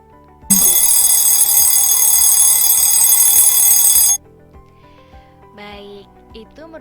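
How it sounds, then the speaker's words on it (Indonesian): A loud, continuous alarm clock bell rings for about four seconds, then stops abruptly, leaving quieter background sounds and a few faint chirps. "Bunyi panjang contohnya terdapat pada jam beker saat berbunyi tanda alarm"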